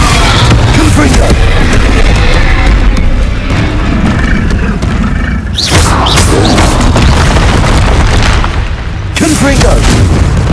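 Confringo explosive curse blasts in Hogwarts Legacy during a fight with a Quagmire Troll, loud booming explosions amid continuous heavy combat noise, with sharp bursts near the middle and end.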